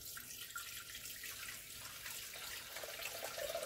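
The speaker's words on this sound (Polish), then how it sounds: "1000 gramów wody. Ja wlewam 500," Water pours steadily into the bowl of a Thermomix TM6 in a kitchen, a continuous close splashing stream with no talking over it.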